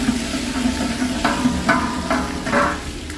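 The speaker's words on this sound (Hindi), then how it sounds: "और घी हमारा गर्म हो रहा है और यहाँ हम अब डालेंगे 40 ग्राम जिंजर गार्लिक का पेस्ट" Ginger garlic paste, 40 g, sizzles in hot ghee with a soft steady hiss, broken by a few sharp scrapes and taps of a spoon against the pan, close and without talk.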